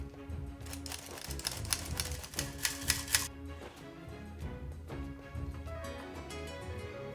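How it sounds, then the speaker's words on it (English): A whisk clatters rapidly against a bowl while mixing flour into sunflower oil for cheese bannock fry bread dough, a busy tapping rattle that is loudest in the first half, then softer scraping. "Whisk it gently and add another half."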